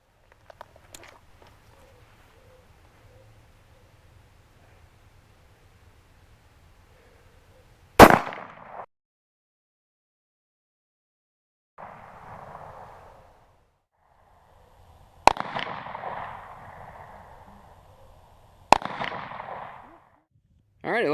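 Single 9mm gunshots are fired at an Auxbeam LED light bar in a torture test outdoors: three or four loud, sharp cracks spaced several seconds apart, each trailing a short echo, with quiet gaps and a faint low murmur between.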